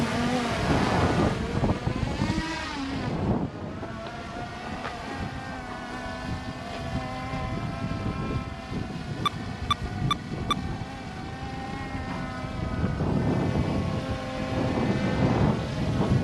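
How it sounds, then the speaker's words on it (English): A Skydio 2 drone flies outdoors on a windy day, its steady whining rotor drone running throughout the clip mixed with gusty wind noise on the microphone, with no talking. "So I'm moving and the drone is moving with me."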